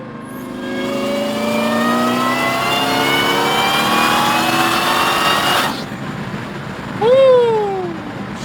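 Cammed 411 Hellcat engine through a new exhaust, revving up hard in a long rising roar with the exhaust valves closed, cutting off sharply, then a short second rev burst, heard loud from inside the car.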